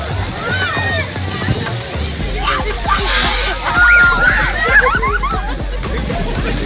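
Water sloshes and splashes continuously in a pool at a water park, close and fairly loud, with bursts of activity and faint distant voices mixed into the churning.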